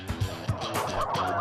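White silkie chickens on a farm let out a quick burst of close clucking, a couple of sharp calls running into a brief chatter.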